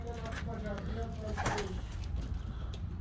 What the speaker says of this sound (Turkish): Şuradaki kuşları parçalıyorlar.